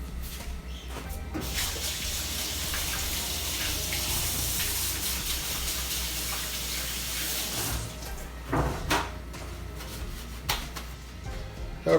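A kitchen tap runs in a steady, close gush as someone washes their hands at the sink, with brief splashes and clatter near the end and no clear talking.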